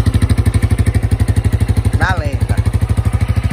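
A motorcycle fitted with a Polimet ST crackle exhaust idles with a fast, even thumping pulse held throughout, close and loud, while someone speaks briefly over it.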